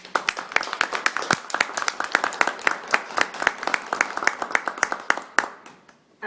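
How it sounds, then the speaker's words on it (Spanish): Audience applause at a university lecture hall for an arriving speaker, steady rhythmic clapping from a modest crowd at moderate level for several seconds, then quickly dying away. "para lo cual pido un fuerte aplauso"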